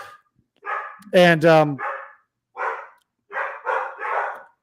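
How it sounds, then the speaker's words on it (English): Several dogs bark loudly indoors in a home in short bursts, with a pair of strong barks followed by a run of quicker, higher yips; a person speaks briefly at the start. "I'm sorry about the dogs."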